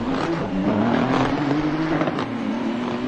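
A damaged Nissan GTR race car in a GT3 racing game at Long Beach runs with a steady, droning engine note that holds fairly loud and close throughout, with faint tire noise and no speech.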